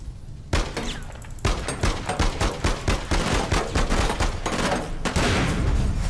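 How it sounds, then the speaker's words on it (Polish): A car blowing up in the online shooter APB Reloaded, heard as a dense run of loud bursts and sharp cracks like gunfire and shattering, continuous for several seconds with no pause. "Wybuchłaś mi autko."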